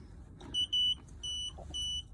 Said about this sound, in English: It's beeping because we have no gas connected.